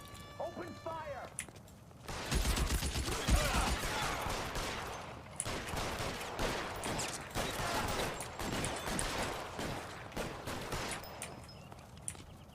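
Gunfire erupts in a shootout in the video game L.A. Noire, repeated sharp shots and bursts cracking over a dense, busy background mix for most of the stretch, with voices occasionally heard.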